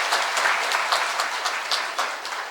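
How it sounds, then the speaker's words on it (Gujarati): An audience at a Shrimad Bhagwat Katha religious gathering in Haridwar claps in steady, dense applause honouring the event organisers, a continuous patter of many hands throughout. "સૌ પ્રથમ તો પેલા એ આયોજકોને આપણે તાળીના ગડગડાટથી વધાવીએ"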